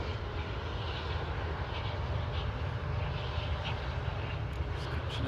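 A Ryanair Boeing 737-800 lands on runway 05 right at Manchester Airport, a steady broad engine roar heard from a distance that holds at an even level throughout.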